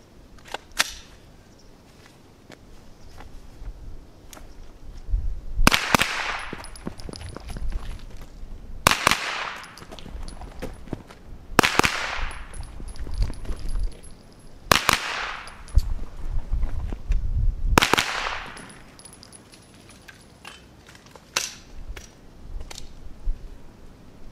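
A JP GMR-15 rifle fires five loud, sharp shots outdoors, spaced a few seconds apart, each crack followed by a short ringing decay, with faint clicks and handling noise between them.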